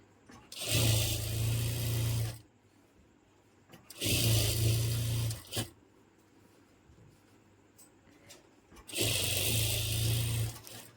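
A sewing machine stitches a patiala pajama in three loud, steady bursts of about two seconds each, separated by quiet pauses.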